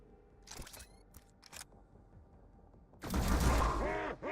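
A single loud gunshot fired in Mutant Year Zero, a tactical strategy game, follows some faint, sparse clicks and rings out for about a second.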